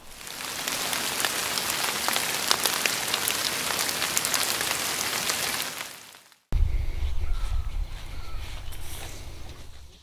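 Rain patters densely on a pop-up mesh tent in Ontario, Canada, a loud steady drumming hiss that cuts off abruptly, followed by a quieter, duller ambience.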